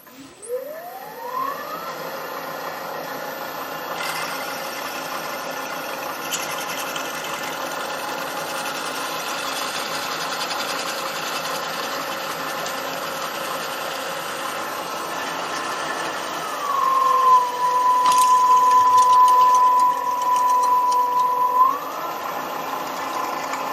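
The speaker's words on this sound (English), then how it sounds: "I decided to drill these holes on the drill press" A variable-speed drill press drills holes in a part for an oil skimmer, running as a steady, close motor whine with a higher sustained tone rising toward the end as the bit cuts, no talking.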